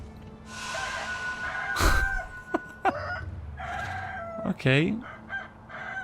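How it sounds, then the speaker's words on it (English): Chicken in the video game Sekiro clucking and squawking in agitated bursts, with a sharp crow-like cry near the end, close and moderately loud under a player's occasional talk. "That chicken does not mess around."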